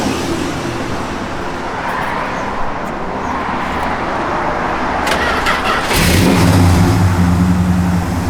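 A 1967 Plymouth GTX idles with a steady mid-range engine rumble, then its engine surges into a louder, deeper rev about six seconds in, close and prominent over faint road noise.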